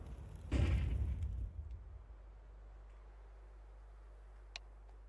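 A flashbang grenade goes off in Counter-Strike 2, a single close, loud burst that decays over about a second, leaving a steady low hum and one faint tick afterward.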